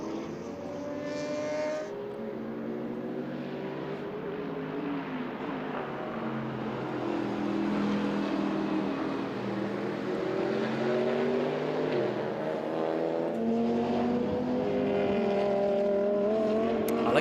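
Endurance touring race car with a 2-litre inline four-cylinder engine at the Hungaroring circuit, a loud rising and falling engine drone through gear changes, sustained and close, with cars passing.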